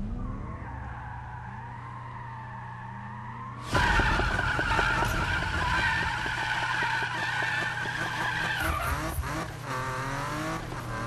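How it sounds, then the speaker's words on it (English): Tires skid and squeal as a car drifts in Need for Speed 2015. A low engine hum gives way to a sudden, loud, sustained screech that wavers and holds for several seconds. "Oh, I just got a drift?"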